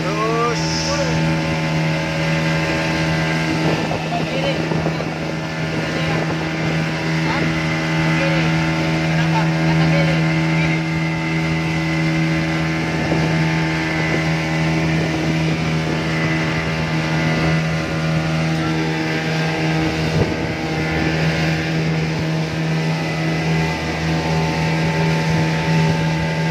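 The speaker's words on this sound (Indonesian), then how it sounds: "Mesin berjalan terus." A boat engine runs on a clear day while a dive crew prepares, giving a steady, loud droning hum with fixed tones that never lets up, and voices are faintly mixed in at times.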